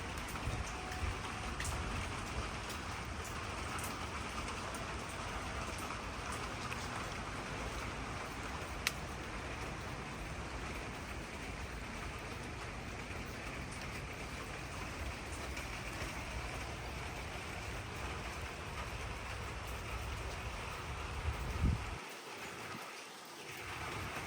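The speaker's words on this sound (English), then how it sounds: "I love rain, so beautiful." Steady rain falls on a garden of herbs and vegetables such as lavender, marigold and oregano, a constant even hiss lasting throughout with no voices.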